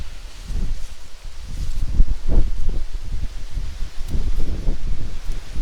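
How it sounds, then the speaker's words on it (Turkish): A soft sea breeze stirs leaves in gusts near an old stone house in Gönen, rising and falling with gentle rustling and low wind buffeting close to the microphone. "bunu burada çok güzel rüzgar esintisi var bu bölgede"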